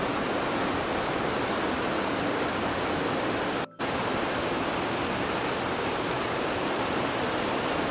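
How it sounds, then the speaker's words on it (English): Water pours heavily down a waterfall at a historic site in Ladakh, a loud, steady roar of broadband rushing noise that is briefly cut by a split-second gap, with no voices. "Oh yeah. Pouring down. Tons of gallons."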